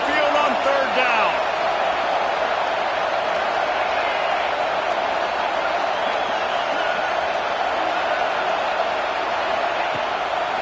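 A loud, rolling crowd roar fills a college football stadium on third down during Georgia vs Alabama, a steady wall of cheering and noise that lasts throughout with little change.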